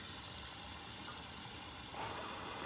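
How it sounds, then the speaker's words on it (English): Steady running tap water gushing over broccoli in a kitchen sink, a quiet continuous hiss that grows slightly fuller near the end, with no talking. "I'm just rinsing the broccoli here."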